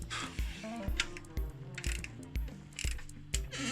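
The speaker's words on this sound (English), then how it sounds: "Once that's done, we can just tighten it up." Ratcheting wrench clicks in repeated short strokes as bolts are tightened during a supercharger install on a BMW E36 318Ti, close and mechanical with a steady back-and-forth rhythm.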